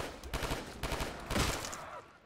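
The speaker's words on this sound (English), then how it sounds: "It's a burst fire, which is never good." An M16 in Call of Duty Black Ops 3 zombies fires a few short bursts of rapid gunfire, each cluster of shots fairly close but moderate in level, trailing off at the end.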